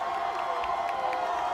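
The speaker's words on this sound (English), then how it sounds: "The Durfee crowd gets loud here at Mac Aldrich Field." Home crowd of Durfee football fans rising in a steady roar at Mac Aldrich Field during a game against Brockton, sustained cheering and shouting in the stands with no single voice standing out.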